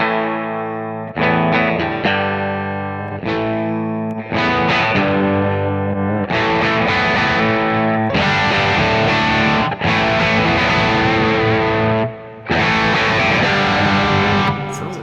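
An electric guitar plays through a Hiwatt amp model on a Kemper and Axe FX III, giving loud, driven, distorted chords and sustained notes with a chorus-like shimmer. It runs for about fifteen seconds of steady playing with no talking.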